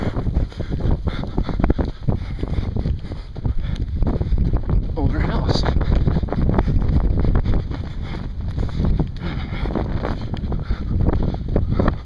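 Strong wind batters the microphone during a marathon, a constant loud rushing roar with gusty surges throughout, with a voice under it.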